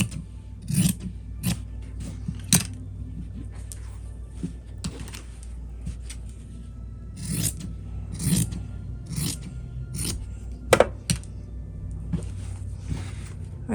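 Scissors cut through fabric for a tote bag in a series of irregular snips and rasping scrapes, fairly close, over a low steady background hum with no talking.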